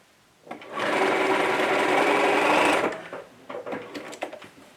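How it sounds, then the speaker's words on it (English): A sewing machine runs in one steady, loud burst for about two seconds as it stitches across the bottom edge of bias binding on a washable fabric market tote, followed by softer handling clicks and rustles. "I'm going to go ahead and stitch right across the bottom edge of my bias binding all the way across"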